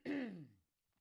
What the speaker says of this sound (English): I have to clear my throat one more time